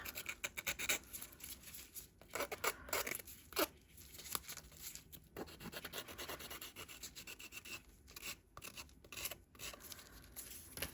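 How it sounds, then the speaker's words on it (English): A small resin Christmas tree ornament is sanded by hand in quick, uneven bursts of close, raspy rubbing and scratching, with brief pauses between strokes and no talking. "Chop that off. Give that a little sand."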